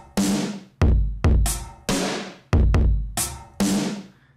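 Aggressive metal drum beat played on the Battery 3 Dragon Kit: punchy kick and snare hits in a steady, simple pattern, loud and dry with nothing else playing.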